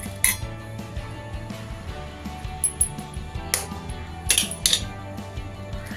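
A utensil clinks and taps against a bowl while eggs are mixed with milk, close and moderately loud, with irregular sharp metallic chinks over a faint background hum.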